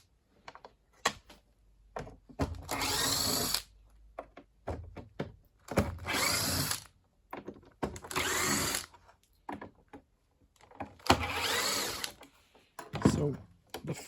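A screwdriver works the hidden Torx screws out of a GTech Air Ram AR2 vacuum cleaner with squealing, non-spinning brushes, giving repeated bursts of close, rasping turning between sharp clicks and handling knocks.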